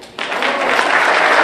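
Audience applause after a presentation at a workshop plenary session, starting abruptly and continuing as a steady, dense wash of clapping from many hands.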